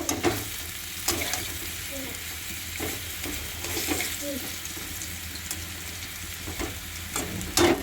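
Potatoes frying in a pan, giving a steady sizzle with occasional stirring clatter and scrapes, close and moderately loud, with a faint wash of running water in the background.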